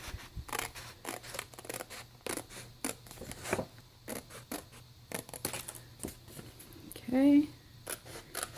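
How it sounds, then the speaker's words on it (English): Sharp scissors snip through paper in a quick irregular run of crisp cuts, close and moderately loud, while someone talks over them at an envelope-making craft table. "I'm going to do it with my scissors"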